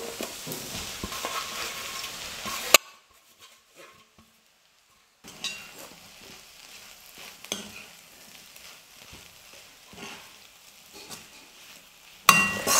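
Kothu parotta with egg is stirred and fried in a pan, loud close sizzling with scraping and clinking of a utensil against metal, broken by a quiet pause of a couple of seconds before the frying resumes.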